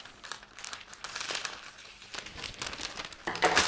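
Cellophane wrap crinkled by hand while arranging a supermarket flower bouquet, close, quiet crackling and rustling bursts in an irregular rhythm over a few seconds.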